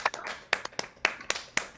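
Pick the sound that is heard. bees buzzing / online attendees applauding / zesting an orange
online attendees applauding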